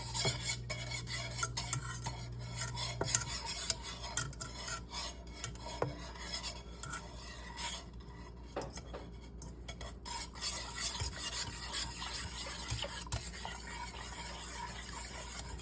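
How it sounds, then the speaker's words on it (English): A whisk works through a thick banana pudding mixture with flour, making fast rhythmic scraping and rasping against the bowl, busy and close, with a few louder clinks and a short quieter stretch midway. "And you want to whisk it up real good"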